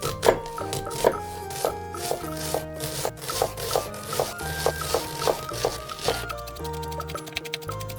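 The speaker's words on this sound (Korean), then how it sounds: "양파 반 개를 잘게 다져주세요." Half an onion being finely minced with a kitchen knife for homemade Eonyang-style bulgogi: a steady series of crisp, close knife chops on a cutting board, with repeated strikes over a background of soft music.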